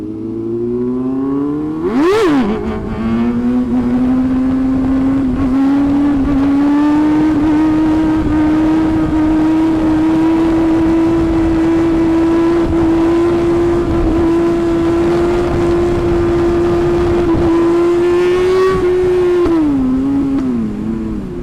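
A motorcycle engine revs hard and holds a steady high pitch during a wheelie on a busy Jakarta street. It is loud and close throughout, with a sharp rev at the start and another near the end, and no talk.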